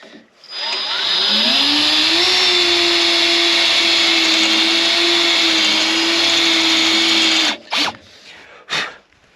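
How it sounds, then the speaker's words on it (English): A small hole being drilled into a steel bolt used as a pusher while repairing a John Deere 8430 tractor: a loud, steady, whining drill motor runs close for about seven seconds, then stops, followed by two brief bursts. "We just drilled a small little hole there"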